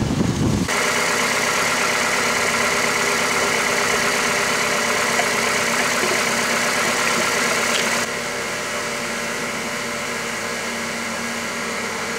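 A Ford Escape engine already running at a steady idle, a dense continuous hum that drops slightly in loudness partway through, with no talking.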